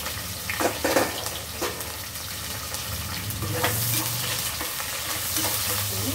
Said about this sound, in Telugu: ఉల్లిపాయ పచ్చిమిరపకాయ ముక్కలు వేసుకుని కట్ చేసి పెట్టుకున్న ఉల్లిగడ్డ ముక్కలు, పచ్చిమిరపకాయ ముక్కలు,